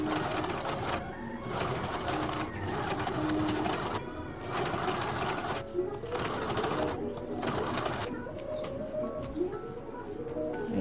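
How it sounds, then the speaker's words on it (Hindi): A domestic sewing machine stitching a double seam on a princess-cut deep-neck blouse runs in steady whirring bursts about a second long, separated by short pauses, fairly close, with faint birds cooing in the background. "डबल सिलाई लगा रही हूँ।"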